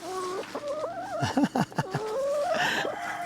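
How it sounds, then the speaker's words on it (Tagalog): Chickens cluck and call repeatedly at close range, a busy mix of short clucks and longer drawn-out calls with no talking. "Sumabit, marami manok din eh"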